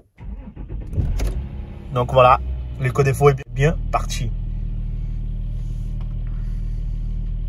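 A Volkswagen Touareg V6 TDI diesel cranks and fires, then settles into a steady low idle rumble. Someone talks over the start-up.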